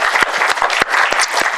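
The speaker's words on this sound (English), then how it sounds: "can we give a round of applause to our panelists?" An audience at a community panel event on NYCHA applauds the panelists, close, lively clapping with distinct individual claps standing out over the crowd.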